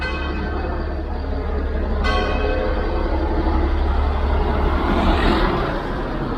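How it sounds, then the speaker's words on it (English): A single church bell strike at noon rings out and fades amid loud traffic rumble and passing vehicles on a busy street in Catania, Sicily. "The bell's ringing 12 noon."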